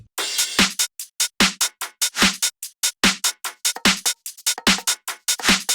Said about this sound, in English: all together the drums sound like this